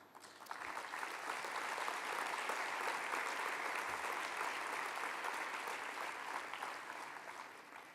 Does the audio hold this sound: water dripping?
no